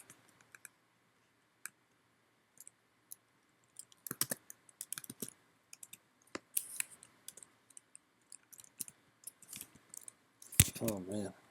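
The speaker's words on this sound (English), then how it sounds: "Oh man, I'm having typing problems." Keys on a computer keyboard tapped during a coding session, sounding as sparse, irregular soft clicks at low level, with a denser burst of keystrokes near the end.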